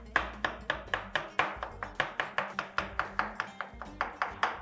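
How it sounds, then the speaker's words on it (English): Roasted aubergine chopped roughly with a knife on a board, a steady run of about twenty crisp, close knife strikes at an even, brisk rhythm, with no talking. "I'm going to chop this roughly."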